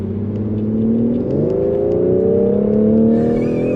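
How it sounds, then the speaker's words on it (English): A 2020 BMW X3 M40i accelerates with a loud, close exhaust note that rises steadily in pitch, with one quick gear change partway through, heard from inside the SUV. "Oh, that exhaust note is fantastic."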